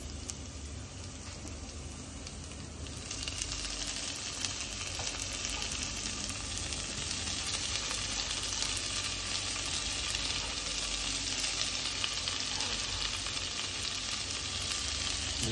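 Pork meat frying in a pan with tomatoes added, a steady loud sizzle that swells after the first few seconds and continues evenly without talk.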